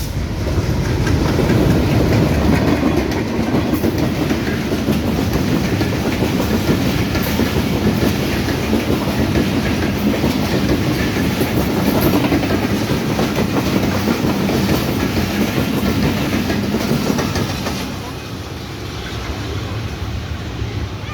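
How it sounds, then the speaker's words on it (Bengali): A train rumbles past nearby at Hili on the Bangladesh–India border, loud and steady with rhythmic clattering of wheels, fading slightly toward the end. "ওই যে ট্রেন চলে আসছে"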